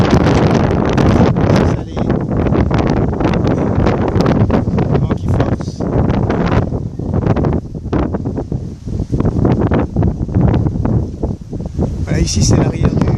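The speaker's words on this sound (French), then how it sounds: "normalement il y a des belles bouffées de vent." Strong wind gusting across the microphone aboard the ship Julie Delmas at Port Est, Réunion, a loud continuous roar with buffeting surges throughout.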